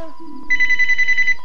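A phone rings during a Majora's Mask game session: a loud, close, trilling electronic ring pulses rapidly over faint game sound.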